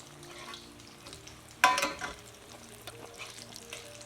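Sweet coconut-filled gojiya dough pieces sizzle in hot oil, with a sudden loud burst of crackling as one drops in, then settling into softer, steady frying with small pops and faint utensil sounds.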